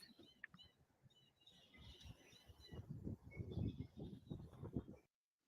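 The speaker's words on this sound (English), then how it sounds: "did you hear there was birds in the background?" Faint bird chirps and calls drift in the background outdoors, brief high tweets scattered over low rumbling room noise and handling sounds, with no talk.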